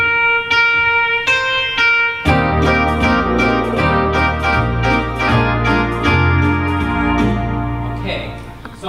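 A keyboard plays block harmony, a lead line with all its harmony notes sounding together as full chords, in a steady, loud, continuous melodic phrase.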